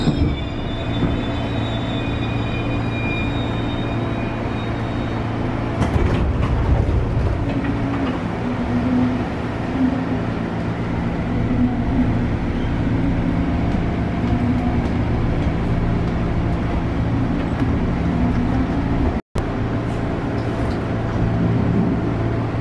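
KRL Jogja-Solo commuter train moving through Delanggu station, a steady loud rolling rumble of railcars with wheel squeal and clatter building partway through, and one sharp bang near the end.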